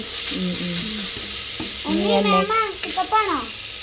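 Onions fry in a pan for chicken curry, a steady sizzle running underneath while a person talks over it in the foreground.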